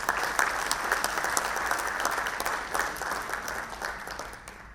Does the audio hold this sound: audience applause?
yes